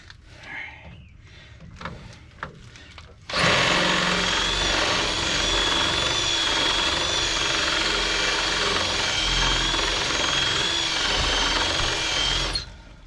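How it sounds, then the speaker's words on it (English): A power drill grinds steadily for about nine seconds, loud and close, drilling off a stuck wheel part on a 1967 Toyota Stout pickup. Faint knocks come first, and then it stops abruptly. "let's get a drill because that one didn't want to come loose"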